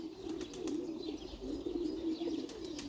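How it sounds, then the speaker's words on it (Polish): Pigeons coo and call continuously in a loud, dense chorus close by in a loft, with occasional wing flutters and no talking. "Ale głośno jest strasznie. Ptaki się drą"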